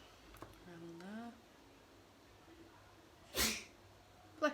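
A single sharp sneeze bursts out near the end, with a brief breathy follow-up, after a few quiet spoken words in a calm indoor room.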